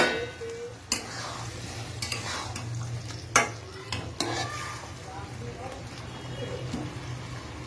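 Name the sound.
adding fried cabbage balls to vegetables in a pan for cabbage manchurian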